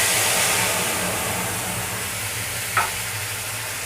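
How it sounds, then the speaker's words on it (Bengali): Spice paste fries in oil with bay leaf for banana stem kofta, a loud, constant broad sizzle that eases slightly over time, with one brief scrape near the end and no talking. "মশলাটাকে আমি ভালোভাবে কষিয়ে নেব।"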